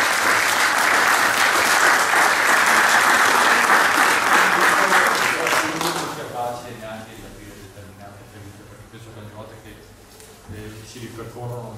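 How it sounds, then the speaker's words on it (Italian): An audience at an art exhibition opening at Palazzo Sarcinelli applauds an artist and his family, with loud, steady clapping for about six seconds before it thins and fades into scattered claps and soft room murmur. "volevo fare un grande applauso a lui e a tutta la sua famiglia"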